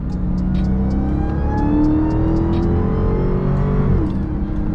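Dodge Challenger Hellcat engine revving loud and close in automatic mode, a steady mid-pitched drone with rising pitch sweeps and a clear gear change near the end where the note drops and climbs again.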